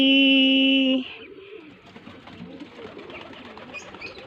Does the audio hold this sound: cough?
no